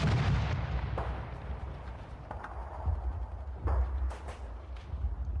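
Gunfire and explosions in the Combat Mission: Red Thunder World War II tank battle game, a heavy boom followed by scattered sharp reports and rumbling, distant and reverberant with no talk.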